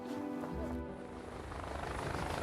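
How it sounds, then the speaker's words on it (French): Helicopter rotor noise at night as the aircraft lifts off from the hospital in Yverdon, a steady, broad whirring drone that stays moderately distant and continuous throughout. "en pleine nuit, un hélicoptère décolle de l'hôpital d'Yverdon"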